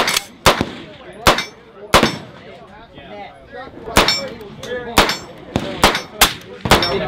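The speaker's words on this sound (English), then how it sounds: "I'm gonna shoot this one." A suppressed AK-pattern rifle fitted with a Dead Air suppressor fires about a dozen close, sharp shots in an uneven rhythm, each crack followed by a brief ringing tail.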